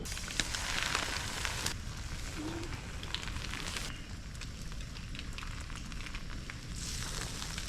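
Canned corned beef heats slowly over an outdoor campfire on a state park hike, with a steady, close crackle and hiss of flames and faint sizzling, no voices.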